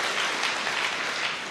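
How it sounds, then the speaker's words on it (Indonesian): A church congregation applauds during a sermon, a dense, steady burst of clapping from many hands that holds evenly and tapers slightly at the end, with no talking. "Berikan tepuk tangan yang meriah betul"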